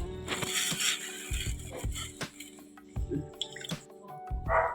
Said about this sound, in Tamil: இதை தண்ணியை ஊற்று தண்ணி ஊற வச்சேன்.